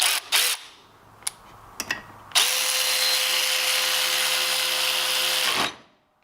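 A Milwaukee FUEL 3/8-inch cordless electric ratchet spins a bolt out, preceded by a few short clicks and handling knocks, then a loud continuous motor whine with gear rattle for about three seconds before winding down, close up with no talking.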